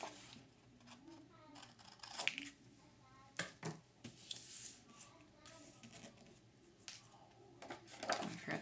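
Quiet, close snips and crisp crunches of paper being cut, in irregular bursts with soft rustling between them.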